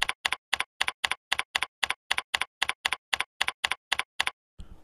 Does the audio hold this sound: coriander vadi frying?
no